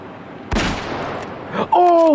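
A single sharp gunshot in a hunting video game, loud and close, with a ringing tail that fades, followed by a brief whistling tone.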